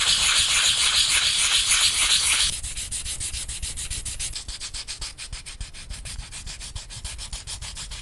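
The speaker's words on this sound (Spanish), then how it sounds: "Lo único que haré será lijar los empates de la masa para un acabado uniforme." Steady, close hand sanding of modelling cardboard paste with 400-grit sandpaper: a continuous hiss at first, then rhythmic back-and-forth rasping strokes, with no talking.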